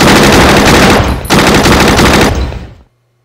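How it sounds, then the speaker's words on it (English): Machine gun fire in the Battle Academy video game: loud, rapid sustained bursts at close range, with a short break in the middle before a second burst that fades out. "Oh, the machine gun guys."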